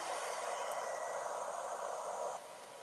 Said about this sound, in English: hair blower has heat in it to make abstract domes